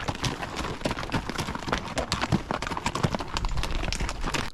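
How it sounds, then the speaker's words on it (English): Pack horses pass along a wilderness trail in Montana, their hooves clip-clopping in a dense, irregular stream of close, loud steps over dirt, continuing throughout with no voices. "it is cool to see the packers come by with the horses and everything"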